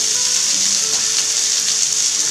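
Peppers cooking gently in a pan for a Corsican ciambotta, giving a steady, even hiss of soft frying, loud and close, with no voices.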